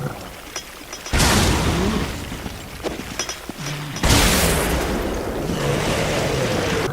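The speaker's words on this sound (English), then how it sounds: "Now let's test the shot grenade on some ooze." Shot grenade blasts against an ooze enemy in the video game Resident Evil: Revelations, two loud booming bursts a few seconds apart, each trailing into a long rumbling wash of noise.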